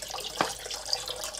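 Water poured for mixing cookie dough, a trickling splash with a brief sharper pour near the start and light drips after, close and soft with no talking.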